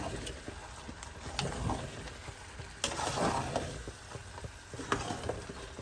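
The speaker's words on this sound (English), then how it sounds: "Okay, and then I'll just give it a quick stir." A quick stir of Fiji-style lamb shank palau in a pot on the stove, with scraping, clinking spoon strokes and a faint sizzle throughout, and a stronger stir around the midpoint.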